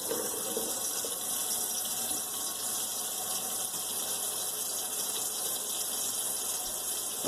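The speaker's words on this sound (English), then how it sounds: "We're going to pour that into a colander and we're going to rinse it with cold water." Cold tap water runs steadily over cooked macaroni in a colander, a constant close hiss and splash with no break for several seconds.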